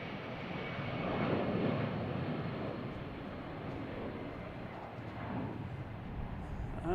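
A Delta Boeing 757-200 airliner rolls down the runway for takeoff at Boston Logan Airport, a faint, distant, broad jet roar that swells slightly and holds steady throughout.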